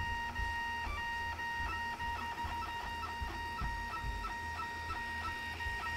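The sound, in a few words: 3D printer printing, stepper motors moving print head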